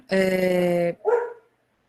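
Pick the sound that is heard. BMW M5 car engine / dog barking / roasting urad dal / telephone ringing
dog barking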